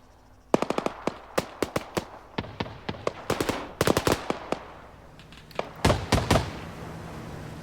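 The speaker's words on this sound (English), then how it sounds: "Right, shots are fired. The shots are coming in." Gunfire crackles through a firefight in Arma 3, sharp shots in quick irregular bursts and clusters, some near and loud, others lighter, with no talking.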